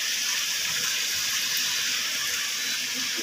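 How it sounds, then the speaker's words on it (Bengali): Hot water poured into a pan of cooking chicken, a steady rushing pour lasting the whole few seconds, close and loud, with no voices. "এবার একটুখানি এর মধ্যে গরম জল দিয়ে দেবে"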